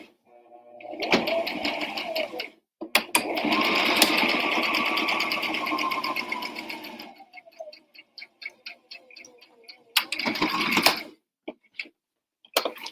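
A sewing machine hems the jagged end piece of an apron in loud, close bursts of rapid stitching, with a long run in the middle, then short stop-start stitches and a final burst.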